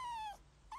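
A dog whimpers in the video game Days Gone, giving a high, wavering whine that trails off and then starts again as a brief second cry, with no speech over it.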